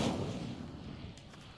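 Incendio fire spell cast in a Hogwarts video game, a sudden deep burst with a roaring whoosh that fades quickly over about a second and a half.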